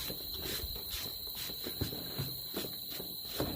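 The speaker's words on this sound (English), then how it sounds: "Grasshoppers." Grasshoppers chirp outside an open workshop in a steady, faint, continuous buzz with a slight pulsing rhythm and no talking.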